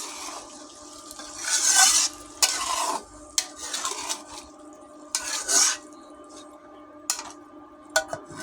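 Small fish curry stirred in a pan after water goes in, a utensil scraping and clinking against the metal with a soft simmering sizzle underneath; strokes come in irregular bursts, fairly close, no voices.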